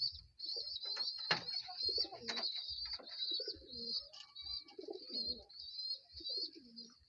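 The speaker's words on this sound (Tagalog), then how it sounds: "Bali tapos na nga tayo magpakain ng ating mga alagang kalapate." Pet pigeons coo repeatedly close by at feeding time, soft low calls over a steady high chirping and scattered small clatter and flutter, with no talking.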